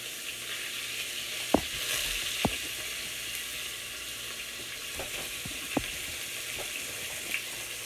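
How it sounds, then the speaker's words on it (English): Steady broadband sizzle of ground meat frying in a pan, with a few sharp clinks of a utensil scraping and stirring. "Hear that sizzle?"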